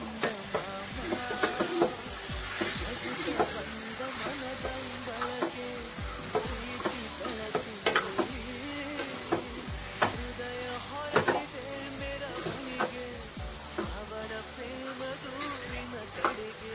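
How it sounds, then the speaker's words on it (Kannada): About a kilogram of chicken sizzles steadily in a hot pan for chilli chicken while a spoon stirs and scrapes it, giving a continuous fry with frequent clinks and knocks of utensil on metal, close up. "ಈಗ ಚಿಕನ್ ಹಾಕ್ತಾ ಇದ್ದೀನಿ."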